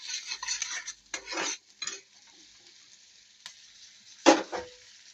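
Vegetarian chow mein sizzles in hot oil while a utensil stirs and scrapes the pan, intermittent bursts of frying hiss and clinks, close and fairly quiet with pauses between strokes.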